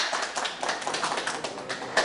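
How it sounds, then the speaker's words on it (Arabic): A small crowd claps steadily at a family gathering in a comedy sketch about elections, a dense patter of hand claps at moderate loudness. "صفقوا"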